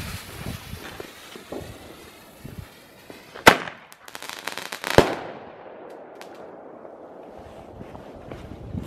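Thunder Kong Powerpack firecrackers go off outdoors: two sharp, loud bangs a second and a half apart, followed by a rapid crackling string of smaller pops that fades into wind and quiet background.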